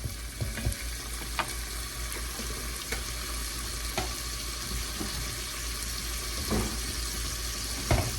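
Jarred garlic sizzling in a pan for ramen, a dense continuous frying hiss with occasional sharp crackles and small clicks of stirring.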